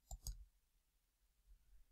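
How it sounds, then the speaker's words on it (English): Two quick computer mouse clicks, close and faint, as a recording is started in OBS Studio, then near silence. "clicking on start recording."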